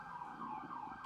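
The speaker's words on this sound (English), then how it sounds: "Let me wait for this siren here." A siren wails from a passing emergency vehicle, a steady, fairly distant tone rising and falling over about a second.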